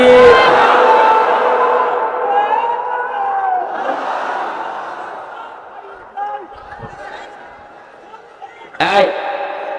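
A large gathered crowd shouts the takbir in unison in reply to a preacher, a loud massed chant that swells and fades, with a brief sharp burst of noise near the end.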